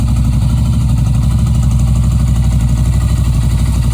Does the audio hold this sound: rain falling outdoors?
no